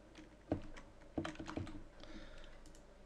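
Keys clatter on a computer keyboard as a folder name is typed, a short run of close, crisp clicks with a few sharper strokes and no voices.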